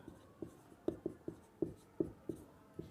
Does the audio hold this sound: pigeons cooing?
no